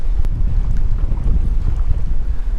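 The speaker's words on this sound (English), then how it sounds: "This wind's starting to kick up." Wind gusting over a lake from aboard a fishing boat while trolling for crappie, a dense, steady low rumble of buffeting across the mic with no talk.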